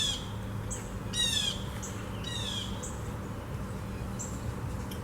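Birds squawk and chirp in short, shrill bursts over a steady background hiss, with occasional higher tweets and a faint buzzing insect-like drone.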